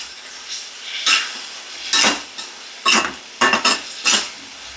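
Ridge gourd chutney ingredients with green chillies and tamarind frying in a pan, giving a steady low sizzle broken by five or six sharp scrapes and clinks as a utensil stirs against the metal, close and clear with no talk.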